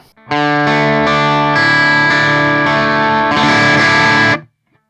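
A loud, heavily distorted electric guitar through a Two Notes Torpedo C.A.B. M with a 5 to 6 dB midrange boost, strumming sustained chords with a pushed, honky midrange, ending abruptly into silence.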